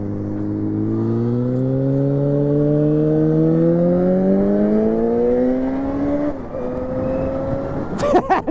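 A motorcycle engine revs up steadily with a rising whine on a rainy road, shifts once, then keeps pulling at a lower pitch, loud and close.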